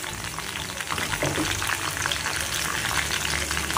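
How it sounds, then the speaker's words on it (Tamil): Mustard seeds and curry leaves spit and crackle in hot oil for a Tamil dried anchovy thokku, a dense close sizzle with rapid popping, steady and loud throughout with no talk. "எண்ணெய் காஞ்சிச்சு, இப்போ கடுகும் கருவேப்பிலையும்"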